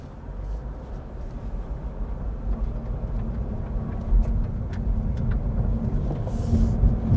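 A 2024 Subaru BRZ tS with a manual clutch pulls away from inside the cabin, its engine holding a low, steady drone under road rumble, with a couple of faint clicks along the way.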